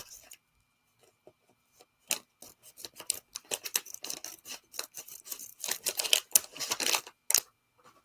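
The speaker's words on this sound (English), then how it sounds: "I might need to use the scissors for this" Quick irregular crisp snips and clicks of scissors cutting through packaging, close up, growing denser toward the end with no talking.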